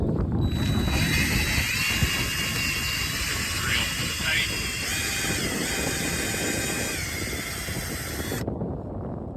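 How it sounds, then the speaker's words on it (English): A steady high-pitched power drill whines for several seconds, close by, drilling a hole angled upward into a maple tree, with a person speaking briefly over it before it stops. "I'm gonna angle up. Drill"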